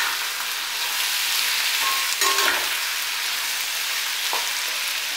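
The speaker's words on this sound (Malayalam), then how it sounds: "നന്നായിട്ട് ഇളക്കാം." Clam meat sizzling in a frying pan while being stirred, a steady crackling hiss with a few soft utensil scrapes and clinks partway through.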